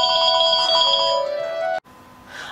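A telephone rings with a bright electronic ringtone, repeating chirping tones for under two seconds before cutting off abruptly, followed by quiet room noise.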